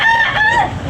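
A rooster at a chicken market gives a short, loud, close crow lasting about a second, a bright strained call with clucking undertones.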